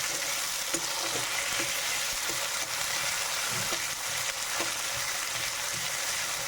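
Onions sizzle and fry steadily in a pan with a constant crackling hiss, close up, broken by a few soft stirring scrapes.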